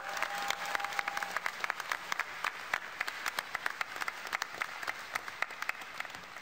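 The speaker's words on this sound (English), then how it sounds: "if you could just give a big hand to those guys out there" An audience at BlizzCon applauds, dense steady clapping from a large crowd filling the hall and continuing throughout with individual claps standing out.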